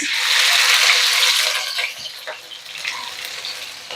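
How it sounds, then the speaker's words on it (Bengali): Crushed onion hits hot mustard oil in a pan for a fish curry, bursting into a loud, hissing sizzle that settles into a steadier, softer frying crackle with occasional stirring clinks. "তেল গরম হয়ে এসেছে এবার এর ভিতরে দিয়ে দেব কিছুটা ছেঁচে নেওয়া পেঁয়াজ"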